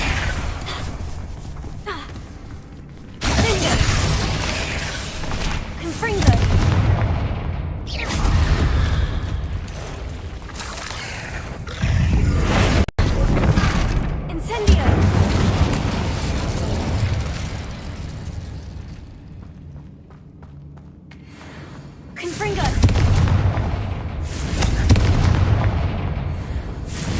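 Confringo blasting spells from a Harry Potter-style video game explode repeatedly in loud, booming bursts with rumbling debris and mechanical clatter, several separate blasts spread across a long stretch of noisy game action.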